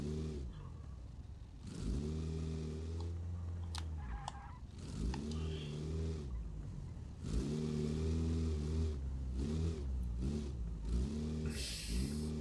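A car engine in the BeamNG racing game revs over and over in long rising and falling surges on a hard climbing course, loud and close, with brief dips in between.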